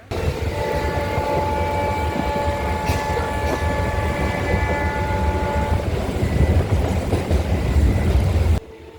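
An electric EMU suburban train from Tambaram to Egmore rumbles steadily along the rails with a constant roar and faint tonal whine, ending abruptly; no talking.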